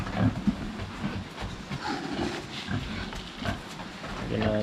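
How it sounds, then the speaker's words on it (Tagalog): Pigs on a rural Philippine farm grunt and squeal as they are fed, a dense, restless chorus of snorts and shuffling at close range with a rumbling background. "pakain tayo ng baboy. Gutom na sila."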